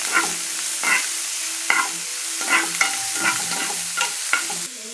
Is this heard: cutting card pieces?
no